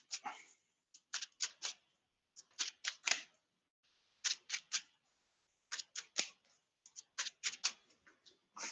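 Magic cards are shuffled at a Premodern tournament table in quick bursts of soft clicking riffles, separated by short pauses, quiet and close.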